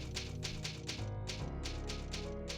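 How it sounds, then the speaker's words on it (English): Typewriter typing animation from the 1998 Resident Evil 2 game, a steady run of crisp mechanical keystrokes roughly every half second over a sustained low musical drone, with no voices. "Didn't want to deny people the typing animation"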